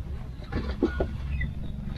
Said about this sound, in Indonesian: ayam hutan. Ayam hutan asli ya, mikat ya